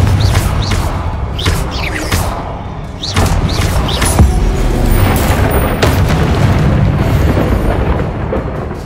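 In Hogwarts Legacy, the fiery Confringo spell bursts into a heavy, rumbling explosion with repeated booming thuds and crackling debris, loud and sustained throughout with no talk.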